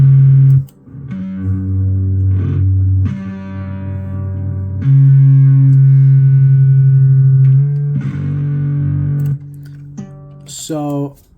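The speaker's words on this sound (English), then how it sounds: "this is me turning the distortion all the way down and the tone all the way up" A sustained, buzzing acoustic guitar tone through a distortion effect, with thick harmonics, rings out in long held notes, loud and close, ending with a brief sliding squeal.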